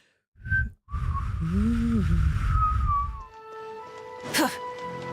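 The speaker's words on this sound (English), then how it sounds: "Oh, accidental whistle." A person whistles right into a close microphone, a loud sustained tone with gliding pitch that breaks off, followed by brief softer sounds and a lingering electronic hum.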